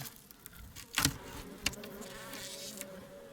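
Honeybees in a weak colony just opened after winter buzz softly inside the hive, a low continuous drone with a couple of louder close passes and faint handling noise.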